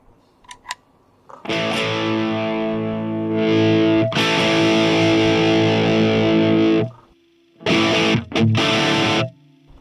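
A heavily distorted electric guitar through a TC Electronic Ampworx JIMS 800 preamp with boost on rings out in sustained chords, cutting off and returning in a couple of short bursts.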